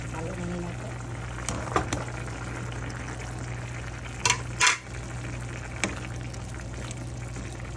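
Potatoes are stirred into a pan of simmering pork menudo, a low bubbling and frying hiss with a few distinct utensil scrapes and clanks against the pan, and a voice talking briefly.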